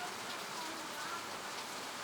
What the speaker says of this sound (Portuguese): É a chuva que acaba de cair